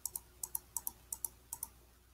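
Several light clicks on a computer keyboard come as a number is typed into a field in an image-editing program. They fall in close pairs, sounding quiet and near against a faint background hiss.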